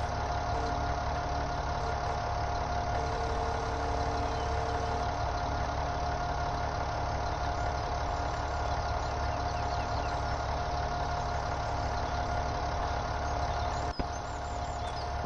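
Steady, continuous tractor engine idling in a farming video game on PS4, a constant low mechanical drone held at an even level throughout, with a brief click near the end and no talk.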